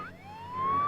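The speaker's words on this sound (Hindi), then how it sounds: "एम्बुलेंस सायरन्स के बिना नहीं चल सकती?" Ambulance siren wailing in a rising sweep, close and growing steadily louder as it nears, alone with no talk over it.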